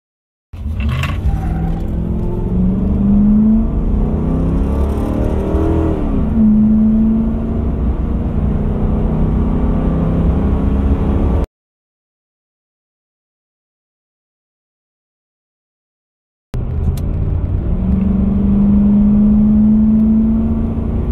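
A Ford F-150 pickup with a 5.4L V8 accelerates hard from a standstill to 60 mph, its engine droning loud and rising through the gears with shift drops. The engine cuts out to silence for several seconds, then resumes revving.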